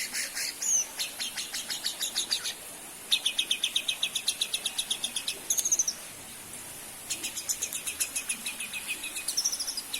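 A sultan bird sings loud and close in bright, rapid trilled bursts of repeated high notes, each phrase a few seconds long and separated by brief pauses, with short sweeping whistles between them and no voices.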